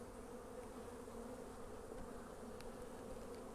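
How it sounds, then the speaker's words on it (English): Honeybees buzz around the tops of two hives set on a pallet, a continuous close, steady hum of many wings with no talk. "I think some of these bees were maybe coming and going from the top a little bit because there's a lot flying around the top"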